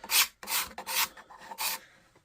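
A card scraper works the wooden head of a pre-1900 golf club in four short, crisp rasping strokes with brief pauses between, close and fairly loud, ending in a faint final scrape.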